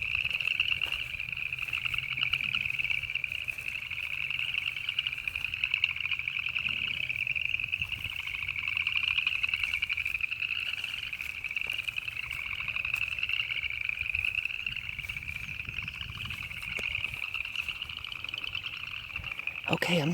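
Frogs croak at a pond in the morning, a dense, continuous high trilling chorus that runs loud and steady throughout, with faint low background rumble.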